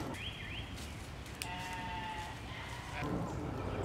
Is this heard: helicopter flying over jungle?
no